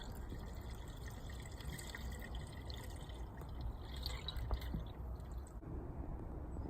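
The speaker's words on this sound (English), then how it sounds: "I filled it up the rest of the way with water" Water runs into the cooling system of a Mustang GT being filled for a flush, a faint, steady liquid trickle with occasional small splashes over low background hum.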